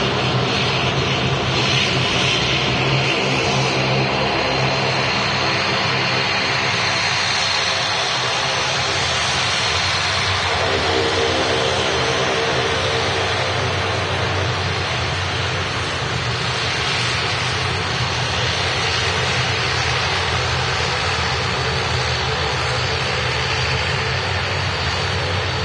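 Jet aircraft engines roar at Manchester Airport, a loud, sustained broadband rumble and whine that swells and shifts slightly over nearly half a minute, heard from nearby without speech.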